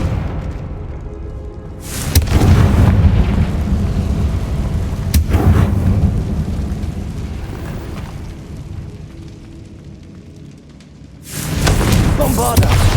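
Confringo fire spell blasts in Hogwarts Legacy, deep thunderous booms that strike sharply and rumble away, three big hits spread out with a quieter stretch between them.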